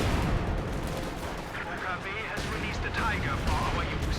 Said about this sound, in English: Light artillery just got dropped over here, I guess, on a fighting position.